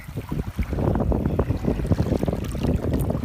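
Stiff evening breeze buffets across a beach, gusty rumbling wind noise with uneven bursts, loud and close, with no talking.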